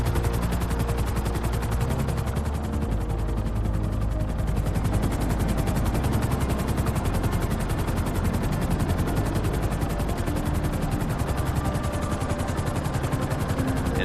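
Trevor's helicopter flying in the video game GTA 5, a loud continuous rapid rotor chop with a dense engine roar that holds steady throughout, close and unbroken.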